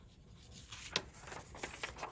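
Pen or pencil scratches a name onto paper in short, quiet strokes, a few faint scratchy bursts close by with one sharper tap.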